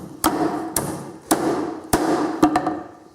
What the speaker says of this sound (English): now this hammer drives nails fine, right?